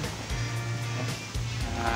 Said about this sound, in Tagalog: Dito po kami ngayon sa tabing dagat.